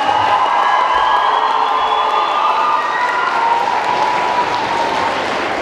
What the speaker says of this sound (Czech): Zatleskáme se to ještě jedno.